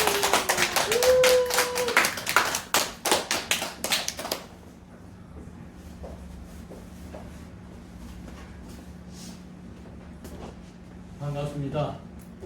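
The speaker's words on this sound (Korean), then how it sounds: "박수 부탁드립니다." An audience at a lecture claps to welcome a pastor to the podium, a brief burst of sharp, close claps in the first few seconds that stops quickly, followed by quiet room tone, faint shuffling and a short spoken phrase near the end.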